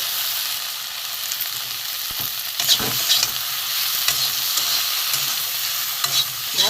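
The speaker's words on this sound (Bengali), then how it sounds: "নুন হলুদ দিয়ে ভেজে করে ভালো করে একটু কষিয়ে নেব" Okra sautés in a pan with salt and turmeric, a continuous close hiss of frying under occasional clinks and scrapes of a spoon stirring against the metal, the sizzle steady and moderately loud with no speech.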